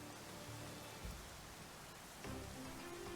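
Steady rainfall in a Pokemon survival game scene, a soft continuous wash of drops with a couple of slightly louder swells, quiet and even throughout.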